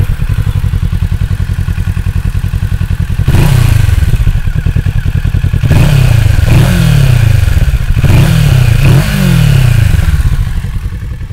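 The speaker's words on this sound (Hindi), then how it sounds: "तो अब सुनाते हैं आपको एग्जॉस्ट नोट।" A 2021 Kawasaki Z650 BS6 naked motorcycle with a lightly modified exhaust idles loudly in neutral with a rough, throbbing exhaust, then revs sharply several times in quick bursts before settling back to idle.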